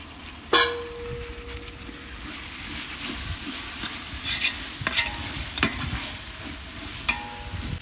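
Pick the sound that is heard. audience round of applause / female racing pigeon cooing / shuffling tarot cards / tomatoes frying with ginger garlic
tomatoes frying with ginger garlic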